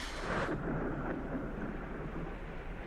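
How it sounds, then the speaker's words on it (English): Rain begins in the video game Limbo as a steady broadband hiss and rumble, loudest in the first half second, then settling into a constant wash that fills the clip with no talking. "I made it rain!"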